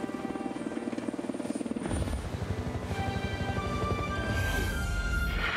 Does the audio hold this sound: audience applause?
no